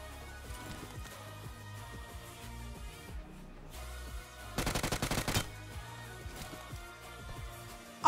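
Gunfire in the mobile shooter BGMI comes as scattered single shots, then a rapid automatic burst in the middle, all set over busy game background noise.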